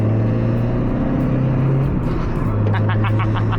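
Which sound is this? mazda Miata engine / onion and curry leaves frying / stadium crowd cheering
mazda Miata engine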